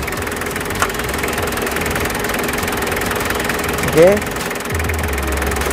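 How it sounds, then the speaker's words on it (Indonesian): A Rugger diesel engine idles steadily and close throughout, with a thin whine from its injector nozzles, and a voice briefly speaks over it. "Jadi yang hanya terdengar ciri khasnya tap diesel ya, lengkingan dari nozzle-nya ya."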